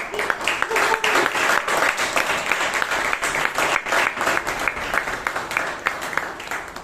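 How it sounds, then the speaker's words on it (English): Audience applause for Toastmaster Joseph Paul at a Bangalore Toastmasters club meeting, a dense, steady round of many hands clapping at close range for the full length, with a little talk mixed in. "give a huge round of applause to Toastmaster Joseph Paul"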